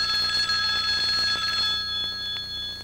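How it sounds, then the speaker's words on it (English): A public telephone rings with a bright electronic trill, a steady tone that fades slightly toward the end, with no voices over it. "It sounded like a telephone ring."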